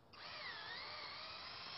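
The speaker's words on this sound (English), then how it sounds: "You'll need to drill near the ends to avoid splitting." A power drill boring pilot holes near the end of a wooden rim joist for a deck, one continuous whining run that spins up and holds steady, heard up close with no talking.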